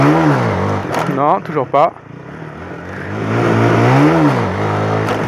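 A Honda CBR 125R motorcycle engine revs up and down in rising and falling surges during a wheelie attempt, with one sharp burst in the middle. Someone speaks briefly over it.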